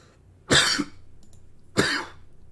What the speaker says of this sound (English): I don't know why I coughed there that much.